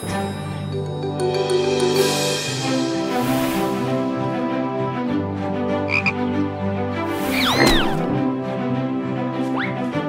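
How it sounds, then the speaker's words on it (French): A frog croaks repeatedly in a cartoon scene, with rhythmic low croaks layered under music and bright squeaky sound effects, close and clear throughout. "Regardez les enfants, une grenouille. Les grenouilles vivent dans les étangs."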